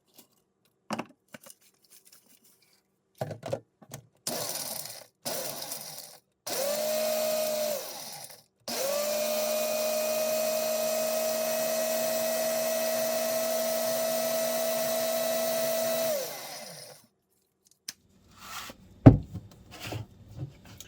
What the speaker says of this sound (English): you don't want to overfill your any of your canisters for grinding, because it makes things get stickier and harder to grind